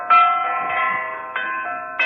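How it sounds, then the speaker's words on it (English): Discordant church bells toll from a bell tower, with several clear ringing strikes whose long, humming tones overlap and hang in the air. "Listen to those bells!"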